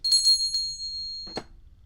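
A notification bell sound effect gives a bright ringing ding that hangs and fades, followed by a short soft knock, all close and alone.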